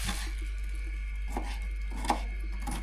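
Knife chopping food on a board while vinegret salad is prepared, a few distinct sharp knocks spaced apart over a steady low hum.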